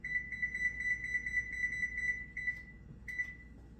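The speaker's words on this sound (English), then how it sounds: "Preheat your oven to 400 degrees and make sure your shelf is in the middle." Electronic oven control panel beeping while the preheat is set to 400 degrees: a quick series of short, evenly paced tonal beeps, then a couple of isolated ones, faint and clean.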